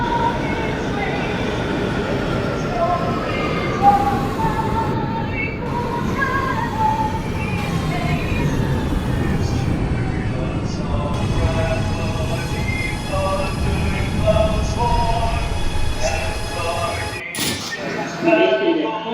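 An R211T subway train on the G line rolls through a simulated New York route with a steady electric motor whine, rumbling wheels and occasional squeals, and a recorded announcement voice comes over it.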